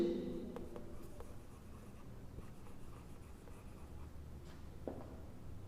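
Chalk or marker writing on a board during a grammar lesson, with a run of short scratchy strokes that comes up clearly at the start and fades into soft room noise.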